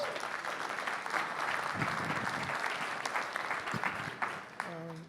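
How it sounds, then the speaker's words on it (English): An audience applauds a speaker arriving to present on bitcoin, cryptocurrency and income inequality; dense, steady clapping fills the room, with a voice briefly heard near the end. "Let's give him a big round of applause."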